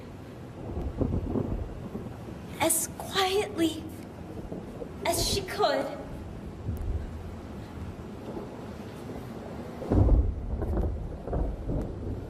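Low thunder rumbles with a wash of rain and wind beneath a narrator reading a story aloud. Deeper booms break through near the end.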